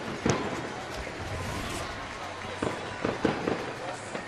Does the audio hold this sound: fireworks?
yes